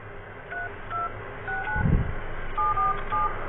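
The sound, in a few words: phone keypad tones entering a number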